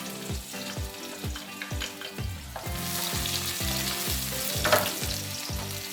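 Garlic fries in hot oil in a pan for chicken adobo, giving a continuous close sizzle and crackle that grows busier and brighter midway, with no voices.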